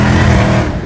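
A Dodge Hellcat engine revs hard during a burnout, a loud close rumbling roar that swells and then eases slightly near the end.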